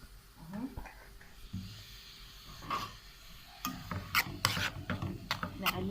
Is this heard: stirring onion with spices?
yes